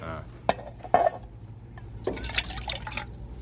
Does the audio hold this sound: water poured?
yes